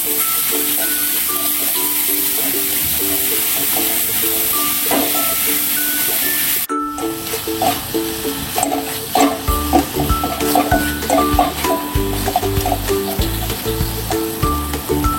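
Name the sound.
mixing modak filling in a pan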